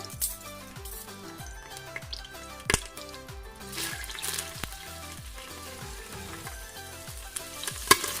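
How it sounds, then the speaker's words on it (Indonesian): Hot oil sizzles and crackles steadily as chopped shallots and garlic fry, with repeated scraping stirs and occasional sharp pops. "Minyak udah panas, kita tumis bumbu."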